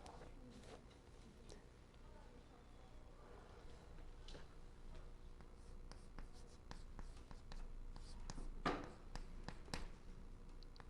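Pen or brush writing characters by hand on paper, with soft scratchy strokes and occasional taps, fairly quiet and close.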